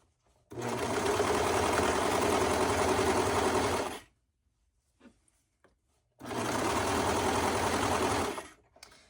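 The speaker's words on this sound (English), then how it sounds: "And you see how the serger's just encasing the material on both sides." A serger sews T-shirt fabric in two steady, loud whirring runs separated by a short pause, the motor buzzing evenly throughout.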